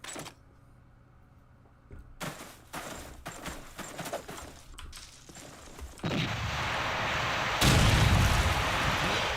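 Repeated grenade blasts and gunfire from a competitive Call of Duty 2 match, starting quiet, then sharp scattered bangs that build into a loud, dense roar of explosions toward the end, with no voices.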